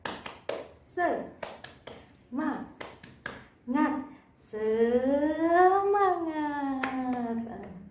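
A group of women claps in a quick rhythmic pattern at a morning community session, with sharp hand claps interleaved with a shouted chant, ending in a long, drawn-out sung call over fading claps.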